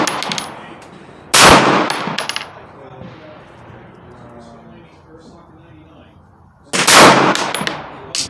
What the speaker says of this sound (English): Alright, let's try 5 more shots.